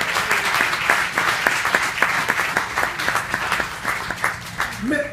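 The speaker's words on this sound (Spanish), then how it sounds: "¿Cuánto le dan un aplauso al Señor por eso, hermano?" A church congregation breaks into sustained applause, many hands clapping in a dense, rhythmic patter at close range for several seconds.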